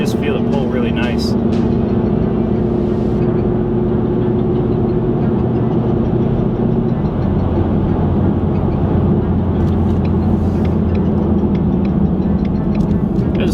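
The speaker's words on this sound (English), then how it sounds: "let you guys kind of hear the exhaust, what it sounds like inside the car." A 2019 Mustang GT 5.0 with long tube headers and a Solo Performance exhaust, heard from inside the car while driving as a loud, steady, low engine drone with shifting pitch, alongside a talking voice.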